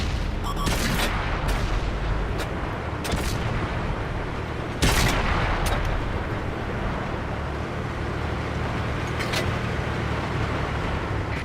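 Tank cannon shots in World of Tanks, driving a Centurion Mk. 1: several sharp broadband blasts, one heavier boom near the middle, over a steady engine and track rumble, with faint radio-style callouts.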